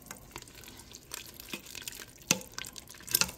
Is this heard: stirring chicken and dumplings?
yes